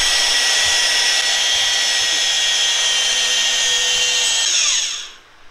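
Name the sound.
magnetic drill drilling steel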